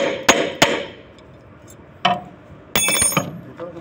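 Several sharp hammer strikes land close by during an air-conditioner condenser fan motor replacement, two quick ones and then a few more after a pause, with some ringing between them.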